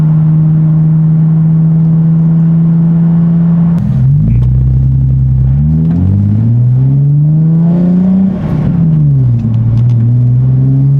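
A Nissan 370Z drives along with its loud, continuous engine drone near and alone. The pitch holds steady, then dips and climbs again through several shifts in speed.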